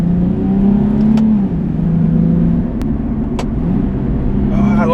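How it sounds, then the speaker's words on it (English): A 2010 Nissan 370Z Touring engine drones loudly and close, its pitch dropping and rising again as the revs blip through downshifts. "Oh, I love that downshift."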